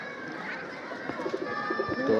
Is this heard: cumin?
no